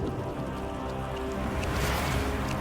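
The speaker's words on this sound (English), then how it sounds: "Until the retroact rain began to fall." Rain falls steadily in the Wuthering Waves video game, a dense continuous patter of drops with a low rumbling background bed and no voices.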